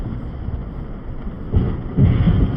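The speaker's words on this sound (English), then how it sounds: "It's just thunder." Thunder rumbles low during a storm, a deep continuous roll that swells into two heavier bursts near the end, heard on its own.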